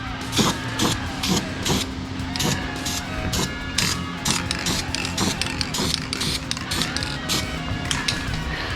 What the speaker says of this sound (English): we're going to hit it with the epoxy paint, a couple coats